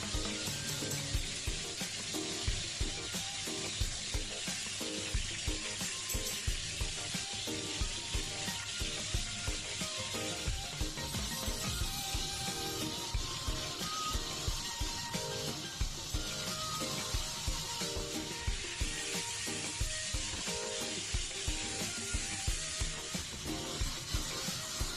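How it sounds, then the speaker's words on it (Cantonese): Chicken thighs pan-fry for teriyaki alongside chunks of scallion white, giving a continuous close sizzle and crackle with small popping spurts throughout, and no voices. "每邊都起碼煎3-4分鐘㗎"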